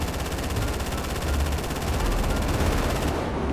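Automatic gunfire rattles in GTA 5, a continuous, dense burst of rapid shots that stays loud and unbroken throughout, with no talk over it.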